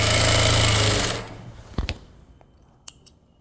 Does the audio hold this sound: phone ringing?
no